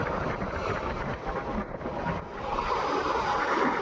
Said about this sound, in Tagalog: Medyo kalmado ang dagat at mahangin,